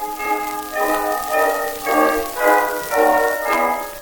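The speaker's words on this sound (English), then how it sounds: "The sound you hear is sunset on Christmas Day in a country cottage." Ambience of a country cottage at sunset on Christmas Day: soft, bell-like chiming tones swell and fade in a slow, regular pulse over a faint, hushed background, with no voices.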